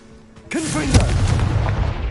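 Confringo blasting spell explodes in Hogwarts Legacy with a loud sudden boom, followed by a sustained rumbling, crackling roar of debris and fire that keeps going to the end.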